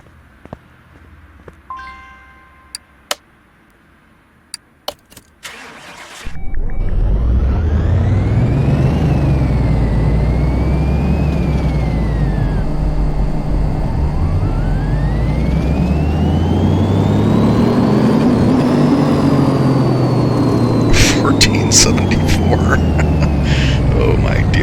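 A supercharged V8 of about 1100 to 1200 horsepower in Car Mechanic Simulator 2018 cranks after a few clicks, then roars loud and steady, its revs swelling and falling in repeated sweeps while a voice talks briefly.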